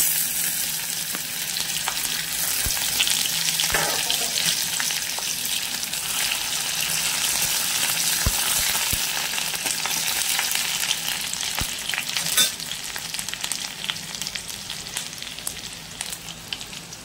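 Garlic and panch phoron fry in hot oil in a pan with a loud, continuous sizzle that runs throughout, punctuated by a few light stirring clicks, with no voices.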